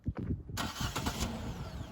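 A car engine cranks and catches about halfway through, then holds a loud, close, steady running roar with no one talking.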